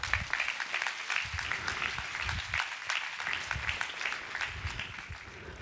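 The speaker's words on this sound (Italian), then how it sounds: "Applauso." An Italian audience at a tribute event for Giuliano Montaldo, with the Solisti Veneti ensemble, claps in a lively, sustained round of crisp, dense handclaps, with a few low murmurs beneath.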